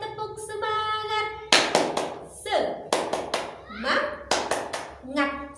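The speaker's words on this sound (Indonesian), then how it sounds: "semuanya ikuti tepuk semangat dulu ya bersama-sama. 1 kali tepuk semangat" Classroom of children doing a patterned spirit clap together, sharp unison claps in a rhythmic sequence mixed with a teacher's voice and children's chanting voices.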